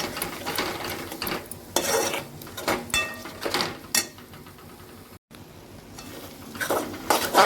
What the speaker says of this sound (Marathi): थोडंसं कांदा खोबऱ्याचं वाटण टाकलं आपण त्याला आपण व्यवस्थित परतून घेऊया आधी